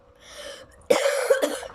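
A man's coughing fit, with one loud harsh cough followed quickly by a second and a third, close up, preceded by a short wheezy breath.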